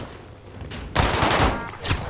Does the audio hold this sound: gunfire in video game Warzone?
yes